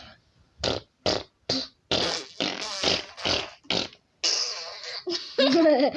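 A fart sound effect from a fun chance game plays as a string of about a dozen short, loud, close bursts, the last few longer and more drawn out, heard without talk.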